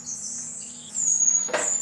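Small finches chirp inside an aviary, thin high tweets over a faint steady hum, with a brief burst of sharper calls near the end.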